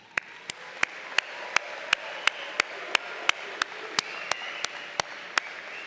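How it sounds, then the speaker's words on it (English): Slow, evenly spaced single claps sound at a graduation ceremony for nursing, applied health and public health students, about three per second, sharp and steady over a faint roomy hush. "let's pause and give yourselves and each other a well-deserved round of applause"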